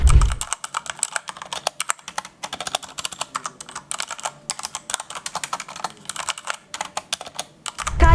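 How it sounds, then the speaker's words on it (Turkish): Rapid typing on a Corsair K70 RGB Pro mechanical keyboard, crisp clacky keystrokes in quick bursts with brief pauses, close up and alone. "İsterseniz birlikte klavyemizi bir dinleyelim."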